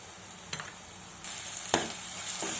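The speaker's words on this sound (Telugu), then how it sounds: "బాగా ఫ్రై చేసుకుందాం." Chana dal fries in a pan with turmeric, salt and ginger garlic paste, a soft steady sizzle broken by a few sharp scraping stirs of a spoon, growing a little louder halfway through.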